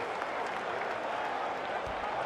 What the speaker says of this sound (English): you can hear the crowd. They are loving it, supporting their boy